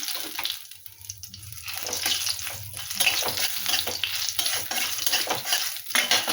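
Dried red chillies and two bay leaves frying in hot oil in a home kitchen, giving a steady close sizzle with scraping stirs and clinks, no talking.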